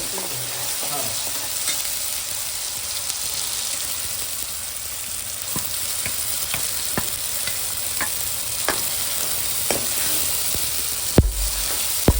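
Ground chutney paste frying with browned garlic in a pan, a dense even sizzle with a few light ticks of a spoon and one clunk near the end, close and steady with no voices.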